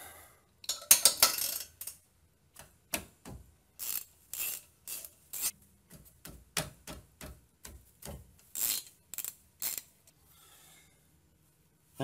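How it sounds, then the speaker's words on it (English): Allen bolts are undone on a Ford Focus RS brake caliper: close, crisp metallic clicks and scrapes in short, irregular bursts, with quiet gaps between them and near silence at the end. "Now just undo these two Allens."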